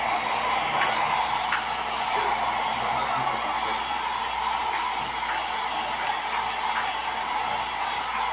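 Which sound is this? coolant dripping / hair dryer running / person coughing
hair dryer running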